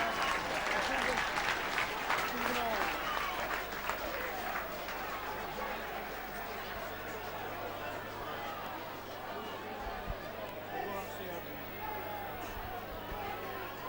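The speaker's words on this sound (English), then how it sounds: "they're warmly appreciated by the crowd as well" Crowd at a rugby league cup match between Batley and Keighley applauds a try, with sustained clapping that fades into steady crowd murmur and distant chatter.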